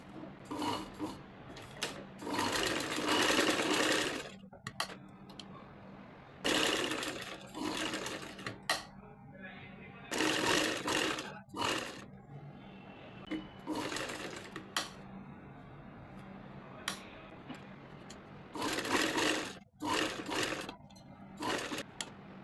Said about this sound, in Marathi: पूर्ण शिलाई मारून घ्यायची